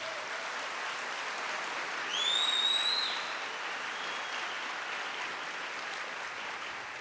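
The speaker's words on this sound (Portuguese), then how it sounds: "Aplaude o seu rei, aplaude Jesus." Congregation applauding Jesus at a Catholic church service, a sustained wash of many hands clapping, fairly steady and slightly distant, with a brief whistle-like tone rising above it partway through.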